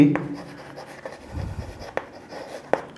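A marker or pen writes on a board during a maths lesson, making short scratchy strokes and faint squeaks with brief pauses between them. It is close and moderately loud, with no talking over it.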